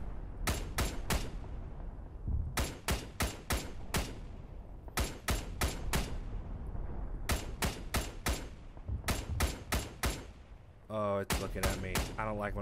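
Rapid bursts of rifle and machine-gun fire crack in quick volleys through an ARMA 3 firefight between JSDF and Titans forces, loud and close, with a brief voice near the end.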